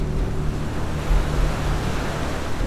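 Loud, steady rush of the flooded Binahaan River in Leyte, roaring continuously with a deep low rumble, fast-flowing, with no voices.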